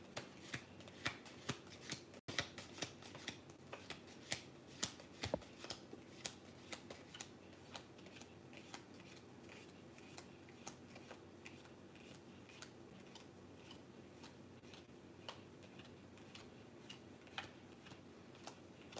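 Quiet, close handling and shuffling of a tarot card deck, with a steady stream of soft riffling and sharp ticking card snaps running throughout, no talk.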